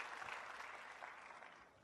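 Audience applause at a Hungarian concert celebration, steady dense clapping from a crowd that holds throughout and slowly tapers off.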